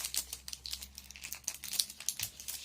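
A plastic wrapper is crinkled and torn open around a supermarket surprise egg toy, giving close, quiet, continuous rustling with small crackles.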